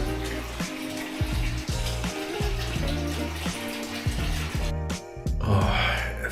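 Water runs from a tap into a bathtub in a five-star hotel bathroom in Ulaanbaatar, a steady close splashing stream with faint clinks and a brief shift near the end.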